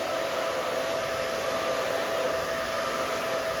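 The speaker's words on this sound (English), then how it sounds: "just slow the blow drying down to the lower speed" Steady whooshing hum of a hair dryer on low speed blowing while a short pixie cut is styled with a round brush, constant and close throughout.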